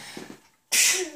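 A single sharp, loud sneeze bursts out abruptly indoors near a Christmas tree, following a quiet moment with faint voice sounds beforehand.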